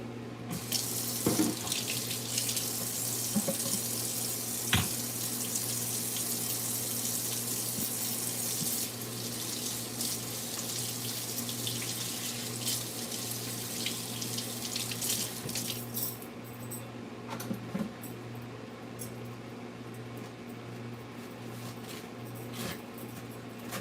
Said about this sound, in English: I had to wash my hands and some napkins